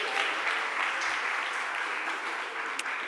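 A room of people claps in the Philadelphia City Council chamber during a stated meeting, a steady, even wash of applause throughout with one sharper clap near the end.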